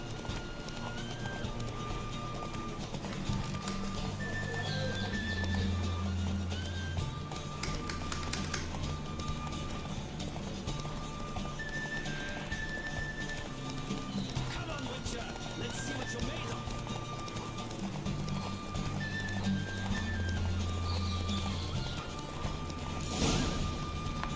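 In The Witcher 3, horses gallop during a race with a steady, rhythmic clip-clop of hooves and an occasional whinny. The racket stays close and continuous while game voices and faint music play beneath it.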